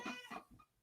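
A house cat gives a short, soft meow, faint and close, with a brief tonal cry tapering off within a second.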